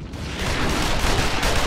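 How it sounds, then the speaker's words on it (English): Sustained gunfire in a Final Fantasy XIV cutscene, a dense continuous roar of rapid shots and blasts, loud and close, with no voices. "Shoot the bastard!"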